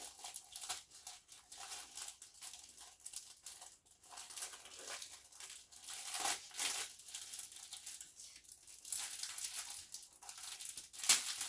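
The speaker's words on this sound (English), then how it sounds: "Let me just take it out of the foil first" Thin foil wrapping being peeled off a new paint palette, a continuous close crinkling and crackling with soft tearing bursts, steady and unbroken, with no voices.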